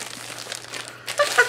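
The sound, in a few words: unwrapping book from purple wrapping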